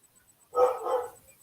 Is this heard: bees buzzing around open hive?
no